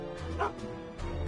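A dog in the Back to the Future video game gives a short, friendly bark and a soft whine, close and clear, with game sounds and faint talk around it.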